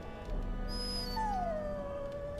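Warhound dog from the video game Dragon Age Origins whimpering, a thin high whine that slides downward and trails off, heard alone and close over soft game ambience.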